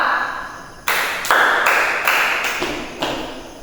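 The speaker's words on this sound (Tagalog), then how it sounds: "Bigyan natin ang pangkat una ng 5 padyak at 5 palakpak." Classroom group giving a rhythmic cheer of foot stomps and claps, a series of sharp, loud slaps and thumps spaced roughly evenly, close by with no talk over them.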